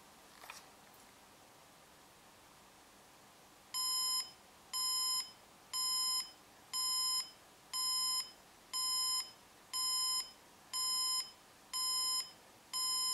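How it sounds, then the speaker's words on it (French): An alarm clock's second alarm sounds in a lower, gentler tone, repeating steady evenly spaced beeps about once a second, close and clear after a brief rustle in a quiet room. "on va attendre la prochaine sonnerie donc de l'alarme 2"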